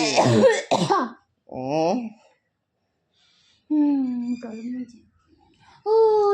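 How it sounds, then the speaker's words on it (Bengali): Short bursts of coughing and throat clearing come from a person at home, mixed with brief spoken phrases and a pause of silence between them. "খালি কাশি।"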